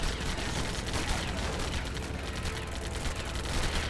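Rapid continuous gunfire in the Lego Batman video game, a dense, loud stream of shots with no gaps and no voices over it.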